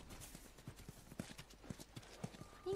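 Horse hooves clip-clop in a steady walking rhythm in The Last of Us, quiet and fairly close, with faint voices and a brief snort near the end.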